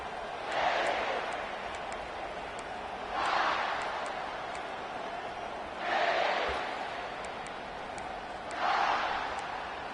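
A stadium crowd at a football game roars in broad swells that rise and fall about every three seconds, a distant mass of cheering voices under a steady background hum.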